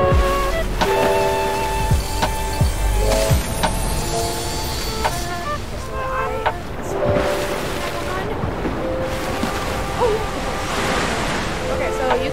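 Rushing water from waterfalls and a big river in a video game forms a continuous broad roar, with tonal game sounds and brief clicks over it and a voice talking intermittently.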